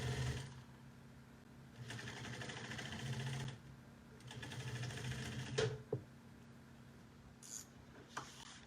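A sewing machine back stitches a seam on a bucket bag with a drawstring, running in short bursts of steady mechanical whirring, quiet and close, separated by pauses and a few small clicks.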